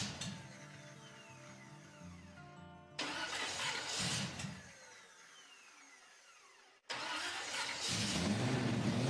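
A custom garage car's weak starter cranking sluggishly, several labored bursts of turning over separated by pauses, the engine struggling to catch, heard close up with no voices.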